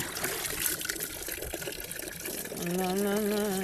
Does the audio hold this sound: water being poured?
yes